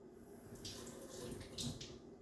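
Running water rinses a rooted heart-leaf chain cutting, a steady close splashing and trickling that swells briefly in a few louder bursts.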